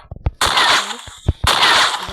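An M8 gun fires in a video game: a few sharp, loud shot bursts with short crackling tails, separated by brief gaps, close and without talk.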